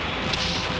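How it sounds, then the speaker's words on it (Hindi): Gunfire in a battle scene from the India–Pakistan war film Border: a dense, continuous roar of shots and blasts, loud and unbroken, with no clear single report standing out. "ये लो स्प्रिंग, चलाओ गोली, चलाओ गोली।"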